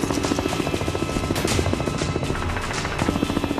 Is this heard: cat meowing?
no